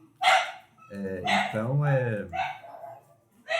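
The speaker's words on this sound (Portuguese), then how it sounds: "desculpa lá que tem um cachorro." A dog barking in short close yips and bow-wows, several separate barks with a whimpering tone, heard alone without speech.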